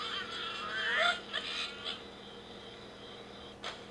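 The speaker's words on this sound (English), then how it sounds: "That's Angry Birds." Cartoonish squawking bird cries and quick electronic sound effects from the Angry Birds game play from a tablet speaker, a rising squeal followed by a few short bursts and a final blip.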